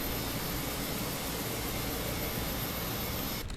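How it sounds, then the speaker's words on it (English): Airbus A320 jet engine spooling up in the MS Flight Sim 2024 game: a steady, loud broadband roar and whine that holds level throughout, then thins abruptly at the very end. "So we can hear the engine starting up."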